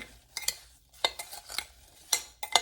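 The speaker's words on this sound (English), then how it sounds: "Now I'm going to stir the apples and cinnamon and brown sugar." Apples with cinnamon and brown sugar stirred in a bowl for an apple cinnamon cake, heard as five or six separate clinks and scrapes of a spoon against the dish, close and fairly crisp, with quiet gaps between.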